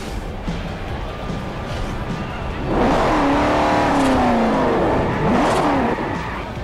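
Car engine revving hard in the Forza Horizon racing game, a loud, sustained rising and falling roar with layered harmonics that swells after a quieter idle and holds for several seconds.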